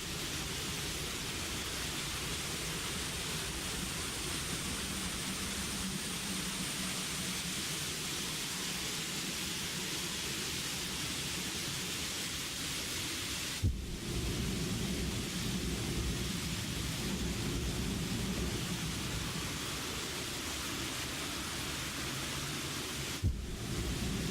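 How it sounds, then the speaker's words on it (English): Dense, unbroken rain roars with a low thunder rumble in the video game Planet Nomads, a loud continuous wash filling the whole stretch, with two short breaks, no voices. "Well, it starts raining over here."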